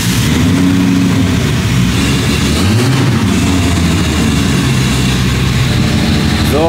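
A VW Golf engine runs loud and close, starting up and rising through revs before settling, a throbbing low drone that swells and dips with throttle changes.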